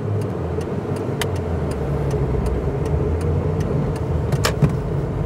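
A Proton Iswara 1.5 engine idles steadily close by, a low even rumble with faint clicks and ticks scattered over it.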